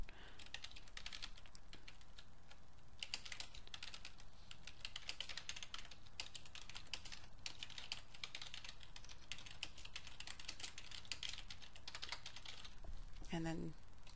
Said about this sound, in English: and then type my note.